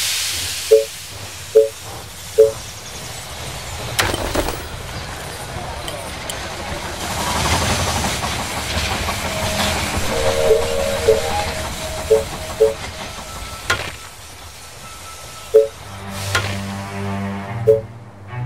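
Train pulling into a station in the strategy game They Are Billions, with a long rumbling hiss and clatter building and fading, punctuated by repeated loud chime-like alert tones, while an announcer-style voice speaks over it.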